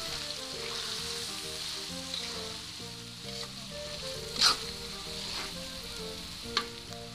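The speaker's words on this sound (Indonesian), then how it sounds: "Kita tumis bumbunya sampai benar-benar matang dan tanak" Spice paste sautéing in a pan for Makassar-style bone soup, a soft steady sizzle with occasional scraping stirs and a single louder clatter, against low background music.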